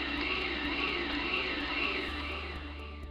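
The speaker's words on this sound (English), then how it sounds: "Here's an example of what it sounds like when SSV is fully functioning." Lathe spindle running with spindle speed variation active, a steady loud whirring drone that slowly swells and eases in pitch, with faint regular ticks above it.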